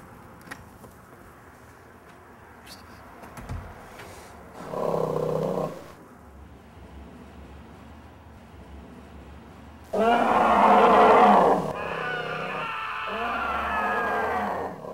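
Stage bear roar sound effect in a theatre play, two loud growling, snorting bursts separated by quieter stretches, the second longer and more intense, with faint background noise between.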